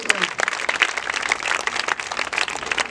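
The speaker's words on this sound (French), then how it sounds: "Bravo. Applaudissez-vous." A crowd claps continuously, dense and close, with some voices mixed in beneath the applause.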